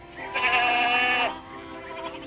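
A goat from a herd returning from pasture gives one drawn-out, wavering bleat of about a second, fairly close and clear against a quiet background.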